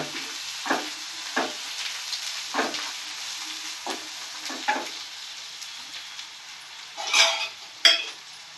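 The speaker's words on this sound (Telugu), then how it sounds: "అల్లం వెల్లుల్లి పేస్ట్ పచ్చి వాసన పోయేదాకా ఫ్రై చేసుకోవాలి." Ginger garlic paste sizzles and fries steadily in a pan, with repeated scraping stirs against the metal every second or so and a couple of louder clatters near the end; no one speaks.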